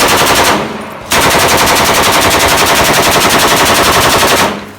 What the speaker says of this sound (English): its firing sound is a deep, rhythmic thump, almost hypnotic as it echoes across the battlefield